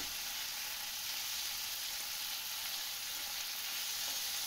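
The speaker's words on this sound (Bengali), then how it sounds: "আদা জিরে বাটাটা ভালো করে ভাজা করে নেবো" Ginger-cumin paste frying in a pan, a dense, even hiss of sizzling oil heard up close and continuously, with faint stirring beneath.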